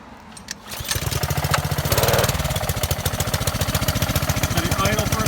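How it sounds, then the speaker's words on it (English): Gas engine of a Ryobi 3100 psi pressure washer starting on choke: a brief pull, then a loud, rapid, steady putter as the engine catches and keeps running close by. "So let's turn the gas line on. Let's open it. Let's pull the choke out. Let's put it to on. Choke out on. Let's give it a pull."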